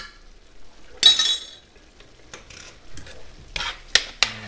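A spoon stirs tomato sauce in a pan, giving scraping swishes and a few sharp metallic clinks against the pan in an irregular rhythm, close and alone with no talk.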